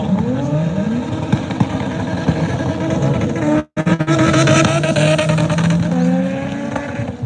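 Loud race cars launch off the line at a street legal drag strip, engines screaming and rising in pitch through the gears, with a brief dropout midway before the roar resumes.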